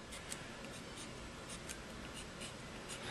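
A pen or marker scratches across paper in quick short strokes while a picture of pizza slices is drawn for a fractions lesson, soft and close.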